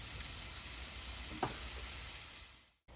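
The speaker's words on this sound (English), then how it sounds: "allow these onions, aka shallots, to become nice and translucent" Shallots sauté in a hot pan with a soft, continuous sizzle, one brief clatter midway, and the sound cutting out abruptly near the end.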